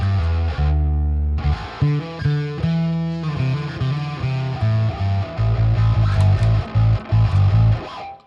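Bass guitar through an Axe-Fx III set to a Fulltone OCD drive tone in a double amp chain, playing a loud, gritty run of distorted notes and sustained chords that ends abruptly.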